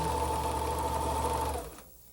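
Serger sewing machine running steadily as it stitches a fabric placket, a close, loud even whir that stops abruptly near the end.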